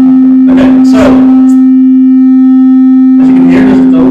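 A steady electronic tone from a sensor drones without a break, with people talking briefly at the start and again near the end.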